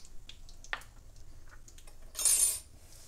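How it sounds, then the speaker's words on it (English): A spoon stirs spice powders into an amla (gooseberry) pickle in a pan, giving sparse light metallic clinks and scrapes, with one brief, louder scraping rush near the end. "you have to put all the powders and mix it well"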